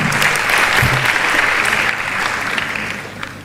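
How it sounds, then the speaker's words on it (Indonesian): Audience clapping steadily for the youth delegates from Central Papua at a youth gathering, a dense sustained burst of applause from a crowd that tapers slightly toward the end, with no voices over it. "tepuk tangan buat teman-teman kita dari Papua Tengah"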